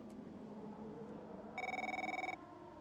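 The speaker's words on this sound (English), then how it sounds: "we got a phone call from Devin" Phone ringing in the F1 23 racing video game, a single burst of rapid trilling electronic ring lasting under a second over a quiet ambient background.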